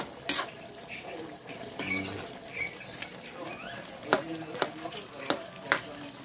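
Chicken adobo stirred while it cooks: a soft bubbling, sizzling bed with scattered scraping strokes and sharp clinks of the utensil against the pot, growing more frequent toward the end.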